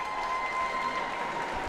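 A crowd at a Cataracts versus Red Wings hockey game claps steadily in a broad, even wash of applause that fills the arena with no clear break.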